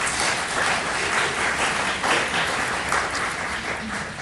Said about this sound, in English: I am going to ask you, too, if you would limit the clapping